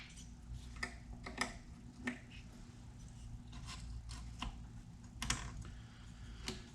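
Electrical connectors snap into place on a 2010 Ford Escape 3.0 XLT 4x4 during spark plug replacement: a series of sharp, faint, irregular clicks over a low steady hum, with no talking.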